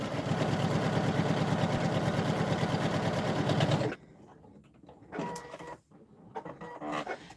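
Sewing machine stitching fabric seams with seam tape, a loud, close, rapid mechanical chatter running steadily for about four seconds before stopping abruptly, followed by quiet handling noises and brief clicks.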